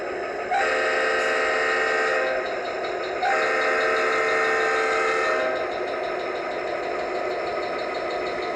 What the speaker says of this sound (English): And here's the horn on it.